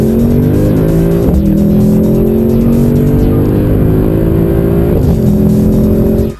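A Mercedes-AMG M156 6.3 V8 engine revs hard and loud, its pitch climbing through gear changes with brief dips, then cutting off abruptly.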